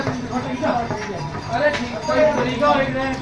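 Rhythmic clip-clop of horse hooves on the ground along the Kedarnath trekking route, steady and fairly close, heard beneath people talking.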